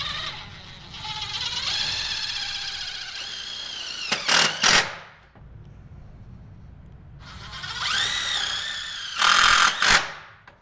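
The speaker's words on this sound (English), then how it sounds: "these self-tappers will go right into the panel, which is pre-assembled, into what we call the welded gate arms" A power drill drives self-tapping screws into a pre-assembled railing gate panel and its welded gate arms: two long whining runs rising in pitch, each ending in sharp clattering bursts, close and loud with quiet gaps between.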